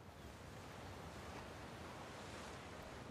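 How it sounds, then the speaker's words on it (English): Ocean waves in the video game Uncharted 4 wash in as a soft, continuous surf roar, distant and quiet with no distinct breaks and a windy hiss throughout. "Nice looking ocean, though."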